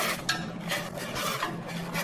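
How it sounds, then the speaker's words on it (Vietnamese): Wood ear mushrooms being stirred in a pot of boiling water, a steady bubbling wash with repeated scraping, rasping strokes close by. "em đảo qua đảo lại mấy cái thôi rồi bây giờ lấy ra luôn ha"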